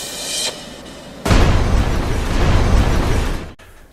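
High pressure compressed air explosion, a sudden loud burst that roars and rushes for a couple of seconds before cutting off abruptly, after a fainter hiss beforehand.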